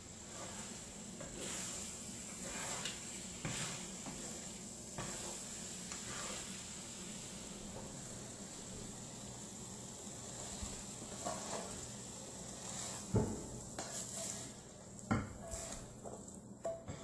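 Cheesy scrambled eggs sizzle and get stirred in a pan, a steady close frying hiss with scraping strokes and light utensil clicks throughout.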